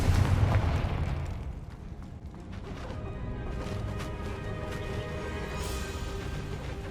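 In a Harry Potter video game, a Confringo spell sets off a loud boom that opens the clip, then decays into rumbling debris and scattered crackles.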